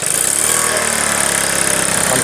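An old motorcycle engine idles close by with a loud, steady, rhythmic putter that stays even and smooth throughout.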